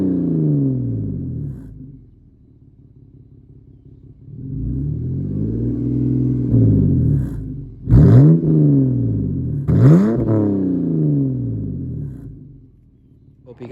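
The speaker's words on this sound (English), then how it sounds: "let me let you guys hear the exhaust real quick" A BMW 328i M Sport engine revs hard through its exhaust several times, deep rumbling swells rising and falling, with a couple of sharp, loud throttle blips near the end.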